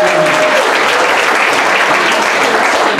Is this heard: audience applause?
yes